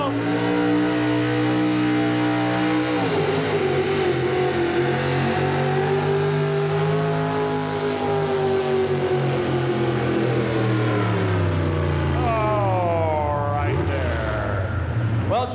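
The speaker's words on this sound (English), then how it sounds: "Pete Miller from Nevada, Iowa, and he's got a great big 71 Dodge" Big 1971 Dodge pulling truck at a truck and tractor pull, its engine roaring loud and continuous as it revs, the pitch climbing, dipping and surging again, with an announcer talking over it.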